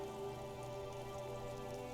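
Steady rain falling throughout a video game scene, a constant even hiss with no talking over it.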